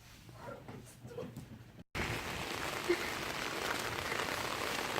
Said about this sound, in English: Because I'm walking in the rain with you?